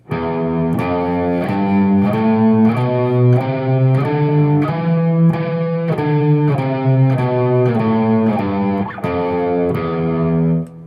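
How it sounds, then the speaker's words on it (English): A Phrygian scale rises and falls on an electric guitar with heavy distortion, each note sustained and picked at a steady rhythm, loud with nothing else heard. "Phrygian scale sounds like this."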